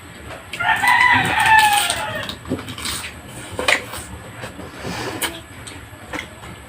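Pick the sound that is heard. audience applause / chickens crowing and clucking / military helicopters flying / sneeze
chickens crowing and clucking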